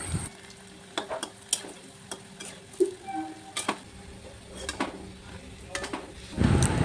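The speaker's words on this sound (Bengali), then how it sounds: "দেখো বন্ধুরা, এইভাবেই আমি সবগুলি পকোড়া অল্প অল্প করে ভেজে নেব।" Young ash gourd pakoras frying in oil produce a low, even sizzle punctuated by sharp clicks and clatter of a utensil against the pan, with a burst of louder bubbling at the end.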